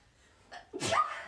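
A single sharp human sneeze, preceded by a short inhaled breath, close to the microphone and loud against a quiet room.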